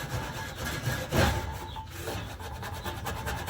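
A soaked piece of carpet scrubs hard across rusty aluminum diamond plate, producing a steady, close, gritty rubbing with a brief surge in the middle.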